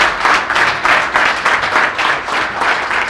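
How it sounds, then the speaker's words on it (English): A press-conference audience gives a steady burst of clapping and applause for a new women's basketball head coach, fairly loud and continuous throughout. "How about another round of applause for Coach Tasha Pointer?"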